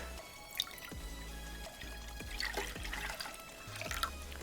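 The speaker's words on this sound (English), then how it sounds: "And to this, I'm going to add milk." Milk poured into a pot on a stovetop burner to start a gelato base, a faint liquid trickle with small dripping splashes, close and quiet with no talking.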